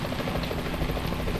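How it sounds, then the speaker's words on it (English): A helicopter in the stealth action game Metal Gear Solid 2 thuds with a steady rotor pulse, loud and continuous, with no voices over it. "Is that a chopper I just heard?"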